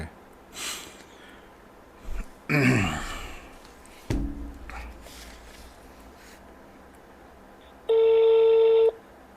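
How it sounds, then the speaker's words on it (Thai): On a late-night Buddhist dharma radio call-in program from a Thai temple, a few soft breaths and rustles lead to a telephone line tone that sounds steadily for about a second near the end, clear and close. "เตรียมรับโทรศัพท์กันเลย"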